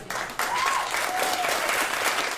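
Crowd at a community protest over land and police transparency applauding, a brief burst of clapping that swells in after a short pause and holds steady, fairly distant and moderate in level.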